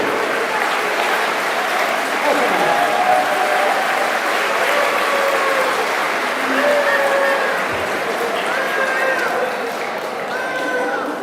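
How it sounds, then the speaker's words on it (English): An audience at an eighth-grade school graduation claps in a loud, sustained round of applause, dense and continuous throughout, with faint voices and a few whistle-like tones mixed in. "So can I please give a round of applause, everybody?"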